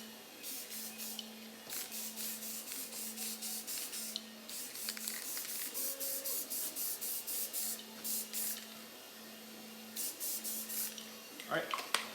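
Spray paint going onto a 3D printed helmet in quick, long passes, a series of short hissing bursts separated by brief pauses and carrying a faint steady hum, with someone talking quietly over it.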